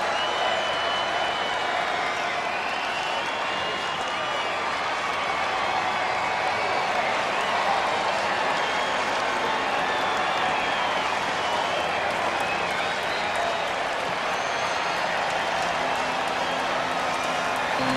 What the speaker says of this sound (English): Now the crowd electric right now, excited on their feet